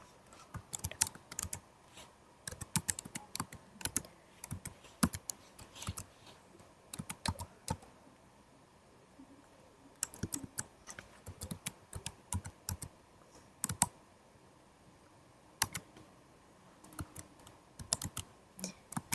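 Typing on a computer keyboard, close and fairly quiet, with irregular bursts of quick key clicks separated by short pauses.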